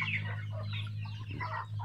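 Domestic chickens, hens and a rooster, clucking close by in a backyard flock, with a steady low hum running underneath and no talking.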